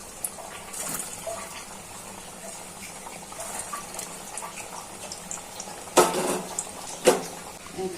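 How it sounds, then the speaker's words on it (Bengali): Frozen chicken shami kebabs dropped into hot oil for deep frying give a steady close sizzle, with two sharper spattering bursts near the end. "তেলটা গরম হয়ে গেছে, একে একে কাবাবগুলা ছেড়ে দিচ্ছি গরম তেলে।"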